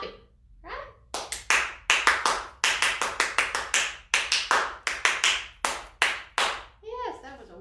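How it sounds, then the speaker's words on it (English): Young children and adults at a Read-To-Me library storytime give a round of double clapping: paired sharp claps repeat in a steady, loud rhythm close by, with brief voices at the start and end. "I think we need some double clapping, right?"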